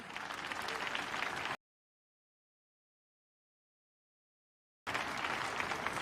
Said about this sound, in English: leaders of those local government clapping this Victor Labinton